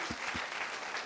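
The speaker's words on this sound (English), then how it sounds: "give her a round of applause" A brief burst of clapping from a student audience in a school talk, soft and short-lived, with a couple of low thumps near the start.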